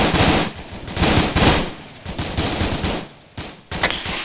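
Rapid bursts of automatic gunfire in an ARMA 3 military battle, loud near volleys of machine-gun fire repeating in quick rhythmic strings with short gaps between them.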